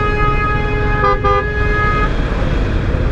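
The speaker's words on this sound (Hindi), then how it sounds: "ज़रा सी जगह मिली नहीं और चारों तरफ से जो है हॉर्न आने शुरू हो जाते हैं" A car horn honks steadily in slow Karachi street traffic, loud and close for about two seconds with a brief break, over a constant roar of engines.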